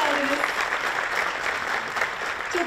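A seated audience at a futurists' association talk claps to welcome the founder onto the stage, a steady wash of applause with a faint voice briefly audible beneath it near the start and end.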